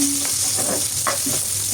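Chopped onion and green chilies sizzle in a hot pan with a loud, steady frying hiss and a few stirring scrapes. No voices are heard over it.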